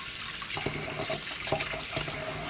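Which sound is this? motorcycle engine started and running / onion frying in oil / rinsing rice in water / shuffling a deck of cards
rinsing rice in water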